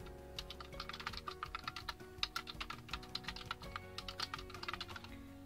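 Typing on a computer keyboard, a quiet, close, rapid run of clicking keystrokes in uneven bursts with brief pauses, over faint background music and no talk.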